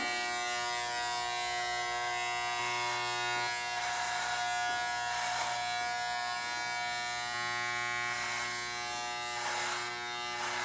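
Electric hair clippers buzz steadily while trimming hair, a close, continuous motor drone that shifts slightly in pitch as the blades move through the hair, with no talking.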